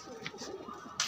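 A pigeon offered for sale coos in a soft, low, brief murmur close by, with a short rustle or higher sound at the end.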